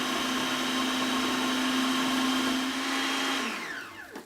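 A blender whizzes carrots and ginger into a purée, a loud steady motor whine that holds for about three and a half seconds, then spins down and stops.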